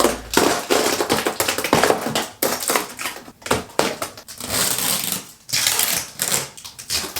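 Loud crunching and cracking with rapid tapping and scraping, as rigid brick-effect panels are pried and broken off a painted apartment wall, close and continuous.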